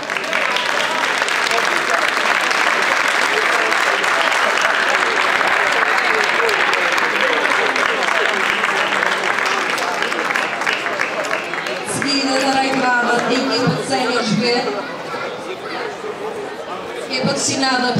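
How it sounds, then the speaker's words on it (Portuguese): A crowd at the inauguration of a football pitch applauds a football team during a ceremony, loud sustained clapping with chatter, then fading as an announcer speaks over a PA. "Um forte aplauso para eles,"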